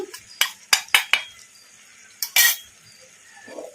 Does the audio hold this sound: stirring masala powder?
yes